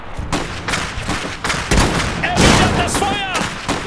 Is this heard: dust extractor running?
no